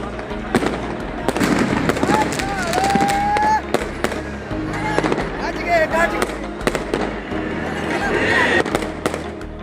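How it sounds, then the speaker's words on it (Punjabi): Fireworks burst and crackle repeatedly in a dense series, with sharp bangs, whistling rockets and a crowd murmuring beneath, at the Golden Temple in the late evening for the Gurpurab of Guru Arjan Dev. "ਦਰਬਾਰ ਸਾਹਿਬ ਵਿੱਚ ਦੇਰ ਸ਼ਾਮ ਹੋਈ ਅਲੌਕਿਕ ਆਤਿਸ਼ਬਾਜ਼ੀ"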